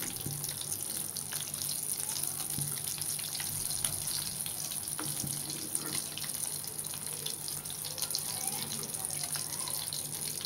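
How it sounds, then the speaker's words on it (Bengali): Chops wrapped in leaves with fish and greens fry in hot oil in a pan, giving a steady close sizzle with occasional pops. "এভাবে আমি সবগুলো চপ ভেজে নেব।"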